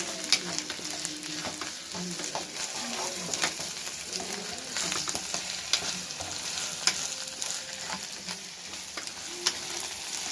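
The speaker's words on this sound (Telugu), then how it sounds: "కొంచెం వేగాక అల్లం పేస్ట్ వేసుకోవాలండి." Ginger paste fries in a pan with a steady, close sizzle, broken by stirring scrapes and occasional sharp crackles throughout.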